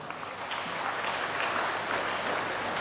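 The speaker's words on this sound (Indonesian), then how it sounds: "Tepuk tangan." Applause from an audience at an Indonesian government event with the Minister of Social Affairs, a steady dense wash of clapping lasting the whole moment, moderately loud with no talk over it.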